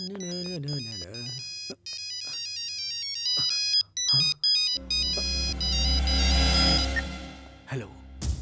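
A telephone ringtone plays a repeating electronic melody, loud and close, before a heavy dramatic music swell with a rumbling low end takes over in a film scene.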